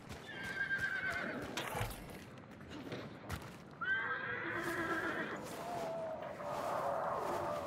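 A horse whinnies in a video game soundscape, with hoofbeats and clattering effects around it, followed by a second, longer neigh.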